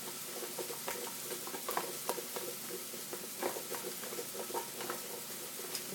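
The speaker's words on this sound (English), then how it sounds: "So we're just going to stir that around" Roasted root vegetables with chopped herb leaves are stirred and tossed in a pan, making soft, irregular scrapes and light clicks over a faint sizzle, close and quiet, without talk.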